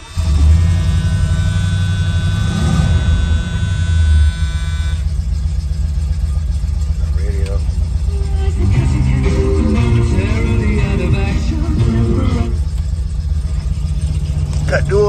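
A 1977 Ford Ranchero engine, fitted with dual exhaust, cranks and starts. It then runs at a loud, steady rumble that goes on without a break while someone talks over it partway through.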